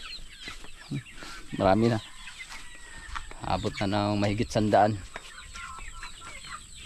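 Chickens on a farm clucking and calling in several loud, close bursts, with someone talking over and between them.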